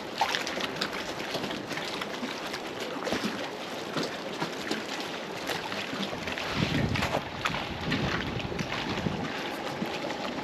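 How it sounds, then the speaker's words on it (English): Water washes steadily at a Jamaican beach facing a small island, a continuous broad rush mixed with wind buffeting the microphone, with no clear voices. "If you guys listen carefully, you could hear the water"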